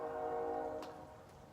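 Far off, a train horn sounds as a long steady blast that fades away, heard faintly from a back garden with low rumble and soft outdoor background noise.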